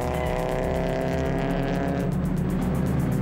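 A Porsche 928S and an MGB race past close by on a circuit. A loud, droning engine roar rises in pitch, then fades into a broad whoosh as the cars go by.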